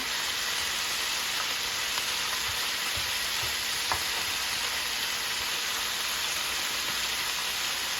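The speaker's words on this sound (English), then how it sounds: "we got our onions and our garlic and our seasoning on top. We're just going to mix well." Onions, garlic and seasoning sizzle steadily in an electric skillet as they are stirred, with a constant frying hiss and a few soft scraping taps from the utensil.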